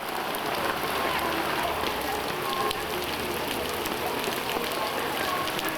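Heavy pouring rain during a running race in China, a dense, continuous wash of rainfall hiss and patter at fairly loud level, steady throughout with no talk.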